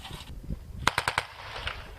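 A vehicle-mounted machine gun, a PKM 7.62 or a Browning 12.7, fires a quick burst of four sharp shots at a military test range, moderately distant, over a low rumbling background.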